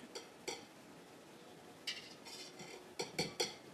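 A whisk clinks and scrapes against a bowl while mashing butter, a series of light metallic taps in uneven clusters, close and fairly quiet.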